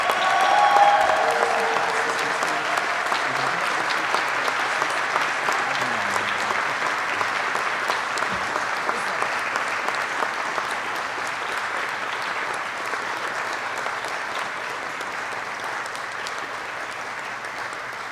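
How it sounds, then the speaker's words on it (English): Sustained audience applause at a U.S. Army flight school graduation ceremony, a dense, steady wash of many hands clapping that starts strong and slowly eases off over about eighteen seconds. "Please join me in a round of applause for the Army's newest aviation warfighters."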